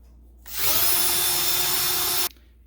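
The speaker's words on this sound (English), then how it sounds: "I'm going to drill this thing out." A power drill drills out a stuck bolt on a motorcycle forward-control conversion, running at a loud, steady whine for nearly two seconds before cutting off abruptly, with no talk.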